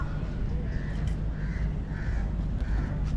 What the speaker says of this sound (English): We've just come across a load of parrots.